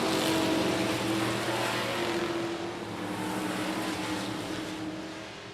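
Race trucks roar around I-37 Speedway in a loud, continuous wash of engine noise, steady throughout with a slight dip midway and no talk.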